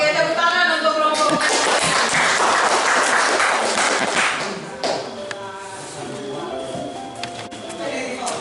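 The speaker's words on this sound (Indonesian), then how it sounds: "Oke, tepuk tangan untuk kelompok" Group applause in a classroom, a burst of clapping loud for about four seconds, then tapering into scattered claps and shuffling as voices talk over it.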